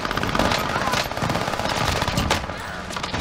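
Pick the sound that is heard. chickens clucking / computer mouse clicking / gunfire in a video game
gunfire in a video game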